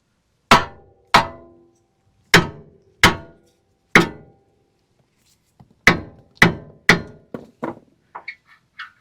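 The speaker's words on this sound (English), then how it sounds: "grab our hammer and hit this" Heavy metal hammer blows ring out one at a time against a lower control arm joint on a 4th-gen Toyota 4Runner, a slow series of sharp clanks followed by quicker, lighter taps near the end.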